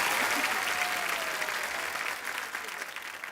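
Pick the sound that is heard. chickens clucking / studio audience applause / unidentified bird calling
studio audience applause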